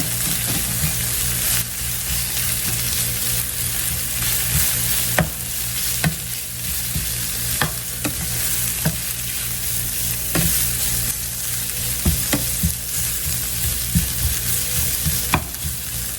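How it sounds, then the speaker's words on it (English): Spinach wilting in a Chef Foundry non-stick skillet, a loud, steady sizzle with scattered sharp taps and scrapes of the spoon as it is stirred. "Now I'm going to go in here with the rest of the spinach I had left over. Get that wilted."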